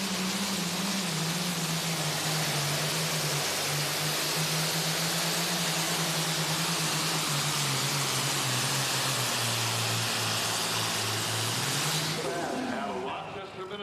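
A John Deere Super Farm tractor at an NTPA Super Nationals tractor pull in Tomah, Wisconsin, its engine roaring hard and steady under a thick wash of broadband noise. A crowd or announcer can be heard beneath the roar.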